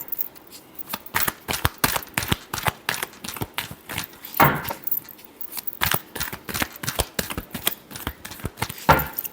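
A deck of tarot cards is shuffled in rapid, crisp bursts, sharp riffling slaps repeating close and loud in an irregular rhythm with no talking.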